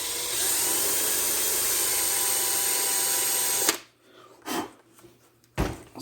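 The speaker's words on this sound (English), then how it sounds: "we'll drill the bottom of that out" A power drill bores out the bottom of a Dodge Viper PCV valve, a loud continuous high whine for several seconds that cuts off abruptly, followed by a few short scraping knocks.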